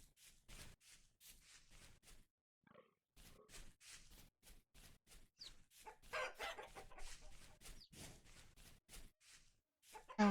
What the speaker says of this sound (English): I will have all of these chickens.